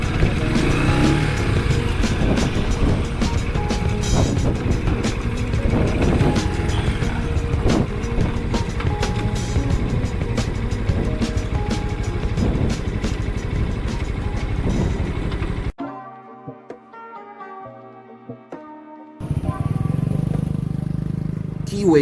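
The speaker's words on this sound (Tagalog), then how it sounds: "Consists of 150cc Cafe Racer 152 engine, is air-cooled in one cylinder." An air-cooled single-cylinder Keeway Cafe Racer 152 150cc motorcycle on a test ride, its engine buzzing steadily under heavy wind noise before a short quieter stretch with a voice and tones.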